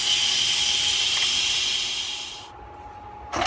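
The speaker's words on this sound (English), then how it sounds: "Timer has gone off, so we are going to release the steam." An Instant Pot pressure cooker vents steam in a loud, steady hiss that fades after a few seconds and drops to near quiet, then a brief clunk at the end.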